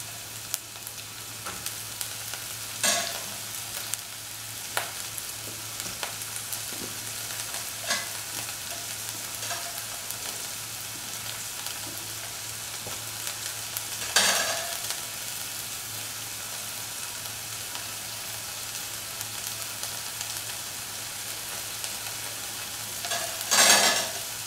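Onions and garlic frying in oil in a pan for chicken noodle soup, a low continuous sizzle broken by several short stirring knocks and scrapes, nearby with no voices.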